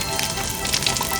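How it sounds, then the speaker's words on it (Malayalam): Fish frying in a pan as a cartoon sound effect: a short, bright burst of crackling sizzle and hiss, close and fairly loud. "ഫ്രിഡ്ജിൽ നിന്നും അവൻ മീനെടുത്ത് അത് കൊണ്ടുപോയി അവൻ അത് വറുക്കാൻ തുടങ്ങി."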